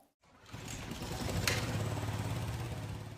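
A small lawn mower engine runs steadily at close range after a brief silence, its rough mid-low drone holding constant for a few seconds with no talk over it.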